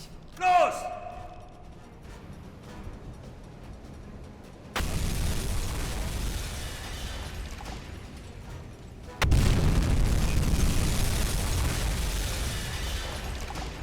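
Two torpedo explosions strike cargo ships in the submarine game UBOAT, each a sudden heavy boom at about five and nine seconds that leaves a loud, sustained rumble, after a brief sharp pop at the start.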